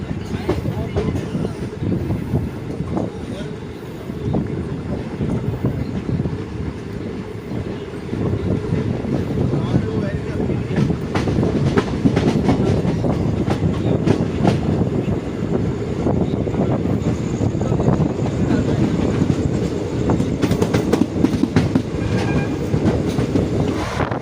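The Kotdwar Anand Vihar Express departs Najibabad station, its wheels rumbling and clattering steadily over the rails. The train is heard from on board amid wind buffeting, and the roar builds as it gathers speed.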